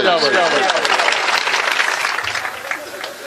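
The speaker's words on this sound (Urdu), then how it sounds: "کلو پنڈت کے لیے زوردار تالی بجاؤ" Loud audience applause for Kallu Pandit at a poetry performance bursts out as a thick wash of clapping, with a voice audible at the start; it tapers slightly toward the end.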